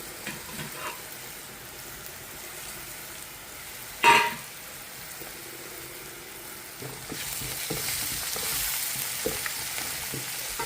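Curry leaves dropped into hot oil with softened onions for a curry, a sharp burst of crackling sizzle near the middle, then a steady, louder frying hiss with occasional spatters and stirring scrapes; no talking.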